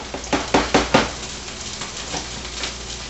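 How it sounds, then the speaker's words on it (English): Onions and peppers go into a hot pan for chicken wing rice bowls, with a few sharp clattering knocks and a hiss at first. A steady quiet sizzle then runs through to the end. "Let's go ahead and start off with our onions and peppers."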